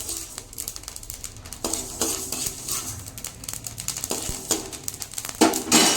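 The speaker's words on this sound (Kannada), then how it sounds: "ಈ ಥರ ನೀಟಾಗಿ ಎಲ್ಲವನ್ನ ಹುರ್ಕೋಬೇಕು" Ingredients dry-roasting in a pan for harali ittina unde sweet balls, with a steady run of clinking, scraping stirs and light crackle heard close, the strokes coming in quick bursts with no voices.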